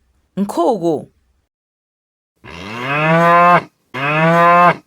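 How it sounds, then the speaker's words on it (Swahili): A cow moos twice, long and loud, the two close low lowing calls following a short spoken word. "Ng'ombe."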